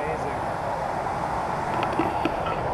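Water rushing over rocks at a waterfall on Junction Creek in Kananaskis, a steady broadband roar that stays loud and continuous throughout.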